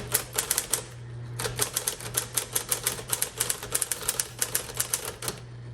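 Rapid keystrokes on a 1958 Smith Corona electric typewriter clatter in bursts with a brief pause, a steady mechanical hum running underneath throughout.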